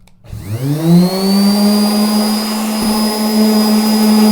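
A power sander spins up and settles into a loud, steady whine on an old table finish, running close and continuous for several seconds with no talking.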